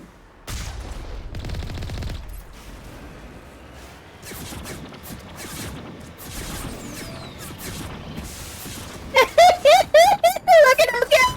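Gunfire from pirate snipers in the game Mass Effect, a run of sharp shots and crashes through the middle of the clip with someone talking over it and a burst of rapid synthetic firing near the end.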